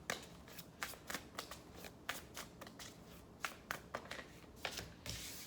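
Tarot cards shuffled by hand in a repeated run of crisp riffling bursts, a dozen or so quick slaps and rustles spread evenly, close and fairly quiet, with no talking.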